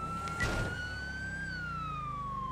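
A police car siren wails in a roleplay video game, a loud close electronic tone sweeping slowly up and then gliding down, with a brief engine rumble early on and no talk.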